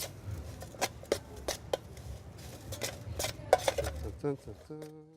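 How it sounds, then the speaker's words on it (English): Stuffing of garlic, panko breadcrumbs, crumbled blue cheese and parmesan being mixed in a bowl at a bistro kitchen, with a series of sharp utensil clinks and scrapes against the dish, moderately close, ending in a faint tonal beep. "Mix this all together. Get it a good mix."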